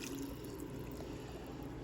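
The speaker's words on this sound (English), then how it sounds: "just pour this over the top of our chicken and onions and bell peppers" A sauce mixture pours over chicken, onions and bell peppers in a slow cooker, making a faint, steady liquid trickle with no talk.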